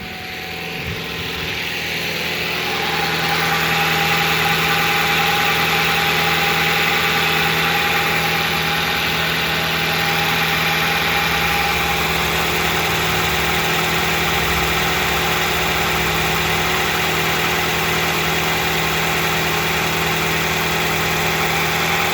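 A 2008 Hyundai Elantra engine with freshly changed spark plugs runs at a steady idle, a close, even hum with a faint whine that carries on alone without any talking.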